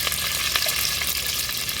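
Half a spoon of mustard seeds sizzling in a small amount of hot oil in a pan over a wood-fired stove, a continuous loud hiss with fine crackles and no voices.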